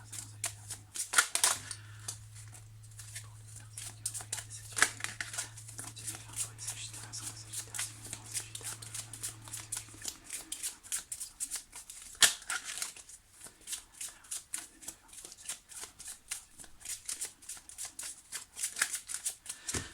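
Tarot cards shuffled by hand in a quiet room, a long run of close, rapid riffling flutters and soft slaps that continues through the clip, with a low steady hum during the first half.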